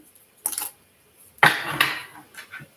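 Tarot cards being shuffled, heard as two short crisp papery bursts of riffling, the second longer with a few soft taps, close and fairly quiet.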